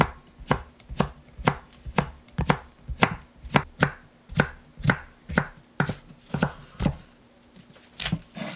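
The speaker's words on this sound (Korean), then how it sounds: "오이는 3등분 해서 돌려 깎고 채 썰어 주세요." A knife cuts cucumber into thin julienne strips on a board, about eighteen crisp, evenly spaced chops ringing out close and clear with no talking.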